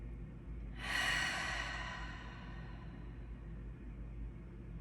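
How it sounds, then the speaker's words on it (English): A single nasal inhalation during a guided breathing exercise, a soft airy rush rising about a second in and tapering over the next second, close and fairly quiet over a steady low background hum. "Breathe in the nose."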